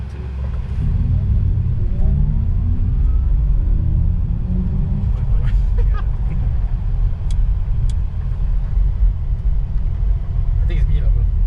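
Audi RS e-tron GT electric sports sedan launching at full throttle on the Sepang circuit, a steady loud drive rumble with rising whine lasting throughout, with faint cabin sounds and occasional ticks; no speech.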